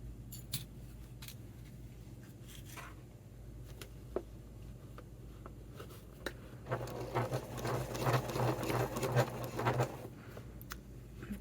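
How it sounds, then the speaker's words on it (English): A sewing machine edge stitching a fabric wallet, its steady close mechanical whirr running throughout and growing louder and busier toward the end as it stitches faster. "I'm just going to edge stitch this"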